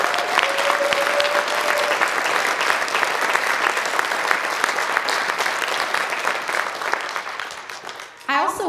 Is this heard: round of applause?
yes